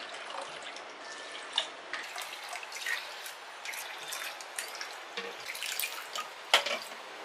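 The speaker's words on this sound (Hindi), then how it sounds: "इसमें पानी डाल देंगे।" Water pours and splashes into a large bowl of soaked lentils and rice for Gujarati dhokla batter, a steady close trickle with a few sharper drips and splashes, no talking.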